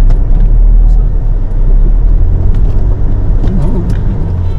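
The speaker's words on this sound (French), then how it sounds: "Accélère pas trop, juste à peine, laisse pas monter." A car engine accelerates gently while driving through the Erg Chigaga desert in Morocco: a steady, loud low rumble of engine and road noise with faint rattles on top.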